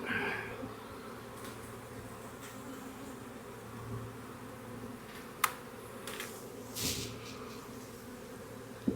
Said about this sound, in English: this frame is loaded with bees